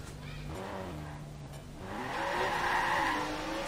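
A car spinning with skidding tires in Watch Dogs, an engine droning low and then a louder, sustained tire squeal rising over it as the car slides around.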